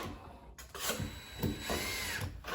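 A power drill whirs in steady bursts, close and loud, with a brief pause near the middle and a short dip before the end.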